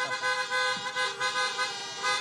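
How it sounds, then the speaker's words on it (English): At an outdoor political rally in Miami, car horns honk in repeated short pulses, layered together and a little distant, with the tones rising and fading in waves. "You got that horn honking good."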